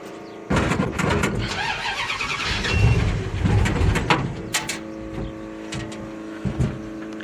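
A 1955 Ford F100 with a 750 double-pumper Demon carburetor and no choke cold-starts abruptly, cranking and catching into a loud rough rumble that settles toward an uneven idle with a few sharp clanks.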